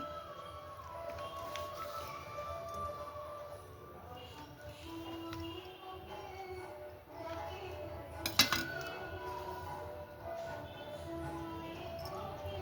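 A knife cuts through a store-bought cake on a plate, giving soft scrapes and a sharp clink against the plate, with light cutlery and dish noises heard close by at a low level.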